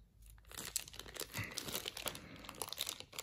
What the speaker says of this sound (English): let me take them out of the bag so you can see them a little bit easier